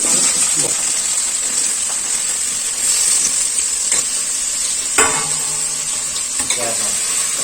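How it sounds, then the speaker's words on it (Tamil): Sliced ivy gourd rounds fry in plain oil, giving a steady close sizzle with occasional clinks and scrapes of a utensil in the pan. "ரவுண்ட் ரவுண்டா இது வந்து வெறும் எண்ணெயில அப்படியே போட்டுக்கலாம்"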